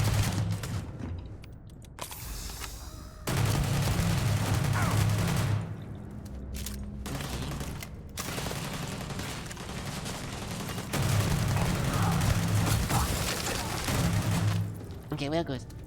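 Repeated weapon fire in the video game Starfield comes in loud bursts of shots with short gaps between them, while a voice talks over the shooting.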